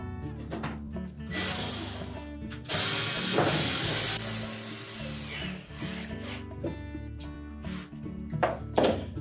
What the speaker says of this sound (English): And then we'll install the 2 screws at the back.